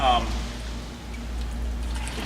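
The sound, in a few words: coolant pouring from a 1990 Mazda Miata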